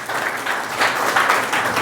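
An audience at a book promotion event applauds in a short, dense burst of clapping that holds steady at a fairly loud level from start to finish, with no voices over it.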